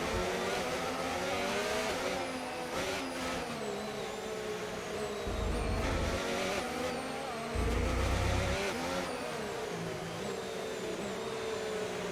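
Race car engines in the F1 25 game lining up on the grid for a My Team career race, a steady high engine drone with rising and falling revs and a couple of deeper surges.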